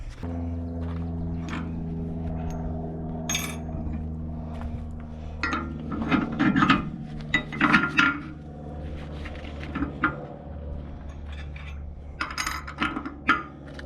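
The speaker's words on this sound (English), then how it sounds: "we're going to get to work here, bolting all this up and changed a few points around" Metal parts and bolts clink and clatter as a Glencoe chisel plow is assembled and points are changed, with irregular close knocks and scrapes over a steady low hum, busier bursts midway.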